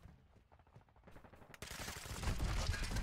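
Gunfire in Modern Warfare 2 starts as faint, rapid shots and then swells into a dense, loud burst of automatic fire with a roaring wash of noise.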